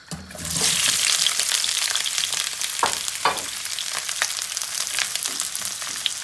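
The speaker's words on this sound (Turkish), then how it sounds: "Tavamız iyice ısındı. Şimdi soğanları boşaltıyoruz." Onions hitting a well-heated pan of hot oil burst into a loud, steady sizzle that holds for several seconds, with a few sharp crackles and spatters rising through the hiss.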